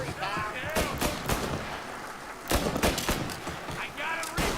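Guns fire in Mafia: Definitive Edition: a handful of sharp, loud shots crack out in quick bursts over a background of shouting and combat noise.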